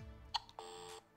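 Electronic beeps from a toy phone in the Secret Admirer board game, a short sharp chirp followed by a longer steady tone, close and fairly quiet with no talking.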